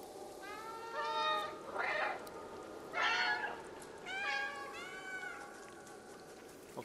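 A cat meows repeatedly in the video game Stray on PS5: five or six clear, drawn-out meows in an uneven rhythm, close and moderately loud over a low background hum.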